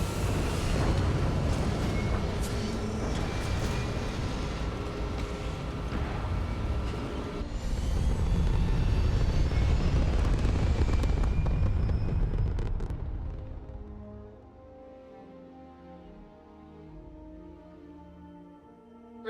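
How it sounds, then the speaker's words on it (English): A spaceship in the Starfield video game lifts off with a loud, sustained engine roar that swells for about twelve seconds, then drops away to a quieter hum and tonal rumble. "We have liftoff."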